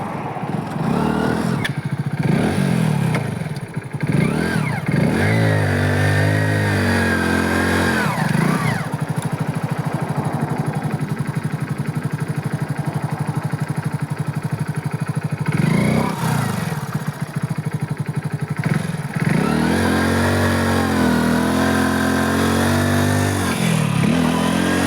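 A motorcycle stuck with a jammed tyre in a farm field roars loudly and continuously, its engine revving up and down in repeated surges near the listener.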